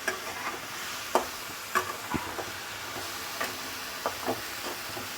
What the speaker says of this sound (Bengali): একটুখানি আমি ভেজে নিচ্ছি।